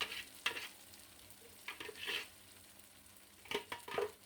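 Garlic and onion frying in a pan for a bessara dish: a quiet, low sizzle with a few stirring scrapes and bursts of crackle that come and go, and no voices.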